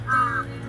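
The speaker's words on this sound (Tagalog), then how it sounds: "Oh, daming uwak." Crows caw in Lumphini Park, a Bangkok city park, with a short harsh call standing out over a low background hum.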